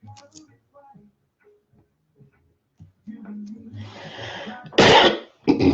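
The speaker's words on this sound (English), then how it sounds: "I cannot seem to get rid of this cough, no matter what I do." A person with a lingering cough gives a few harsh, loud coughs near the end, after a quiet stretch of soft rustling and clicks.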